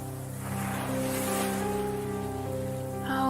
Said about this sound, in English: The sea, the raging sea. It makes such a thunderous sound against the jagged rocks below.